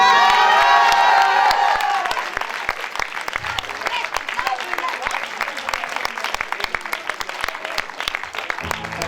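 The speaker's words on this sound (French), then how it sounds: "Et on peut les applaudir, hein" Concert audience at a show in Le Mans applauding and cheering, dense clapping with whoops after the music's final notes fade in the first two seconds, steady and loud throughout.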